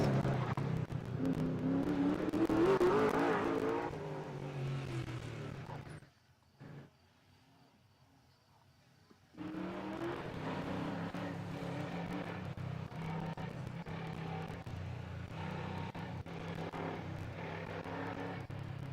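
A race car, a Nova powered by a big Langenfelder engine, revs loud and close with a rising engine note. The engine then cuts off into a brief near-silence before a steady roar returns.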